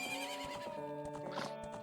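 A horse neighs in the video game The Legend of Zelda: Ocarina of Time, a short whinny with a tonal, wavering pitch over quiet in-game background sound.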